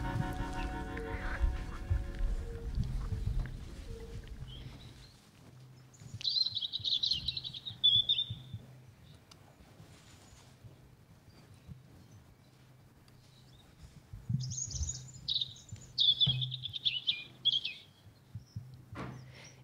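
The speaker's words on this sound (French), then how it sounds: "on commence cette émission avec le joli chant du rouge-gorge familier" After a brief musical opening, a European robin sings two high, thin, warbling phrases separated by a quiet pause, on a radio programme.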